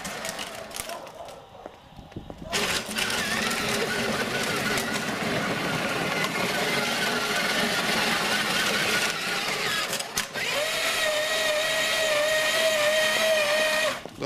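Electric motor of a Peg Perego ride-on toy jeep whirring steadily and loudly for most of the clip, with a brief dip early on before it picks up again, and faint voices in the background.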